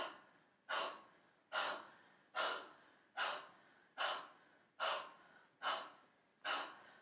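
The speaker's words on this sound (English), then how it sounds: "breathing through your mouth, because if you do this with your mouth closed, it's going to trigger a flush" Forceful breaths pushed out through the open mouth during an anger meditation, eight sharp loud exhalations in a steady rhythm about once per second, each trailing off into a quiet pause, close and alone without speech.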